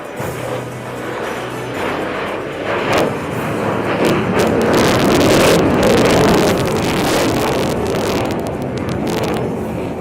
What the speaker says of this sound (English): As you watch, the aircraft is accelerating from 200 kilometers per hour to a very high speed.